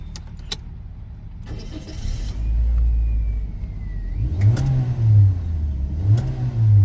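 A car engine revs up in a couple of deep, swelling surges, loud and close, with a few clicks and small rattles around it, in an automatic-transmission car fitted with hand controls.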